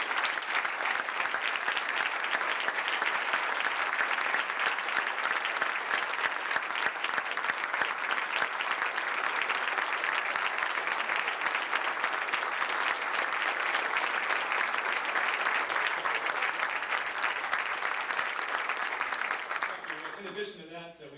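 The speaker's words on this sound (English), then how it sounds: "let everybody give you a round of applause" A crowd at a base gathering gives the crew a long round of applause, steady and even for about twenty seconds before tapering off at the end.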